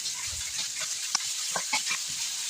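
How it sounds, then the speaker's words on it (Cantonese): Marinated chicken slices fry in a wok over high heat with a steady, moderately loud sizzle and a few scattered crackles and pops. "加入醃好嘅雞片，大火兩面煎1分鐘"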